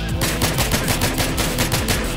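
Dense automatic gunfire in Battlefield 3, with fast continuous shots hammering steadily throughout and nothing else audible.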